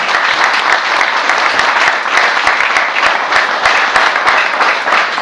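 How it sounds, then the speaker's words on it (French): Loud, sustained applause from a crowd honouring pilots and divers at a diving club's 2011 certification results event in Plouguerneau, dense steady clapping throughout. "on va pouvoir déjà leur faire un applaudissement"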